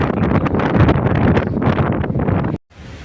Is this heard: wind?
yes